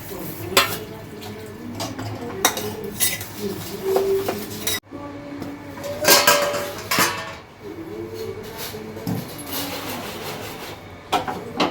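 Dishes, pots and utensils being scrubbed and rinsed after cooking khichuri, with repeated clinks and clatters of metal and crockery, bursts of running water and scraping, close by with a brief pause midway.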